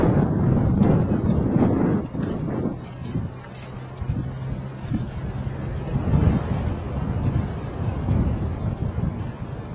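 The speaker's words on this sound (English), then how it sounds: "Still a little breezy out here." Breeze buffeting the microphone at Kendall Lake, a steady rough wind rush with gusty low rumbles that swell and ease, outdoors with no one speaking.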